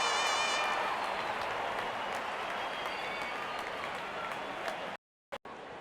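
Cricket fans in a packed IPL stadium clap and cheer in a broad roar, steady for about five seconds before the sound cuts out abruptly, with a faint horn-like tone early on.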